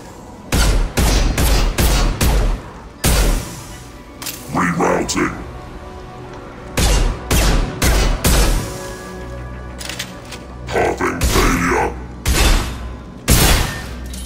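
Gunfire from the Mass Effect 2 video game comes in loud, repeated bursts of rapid shots separated by short pauses, with a voice speaking briefly between some volleys.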